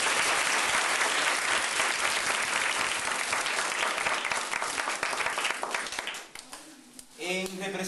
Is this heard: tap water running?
no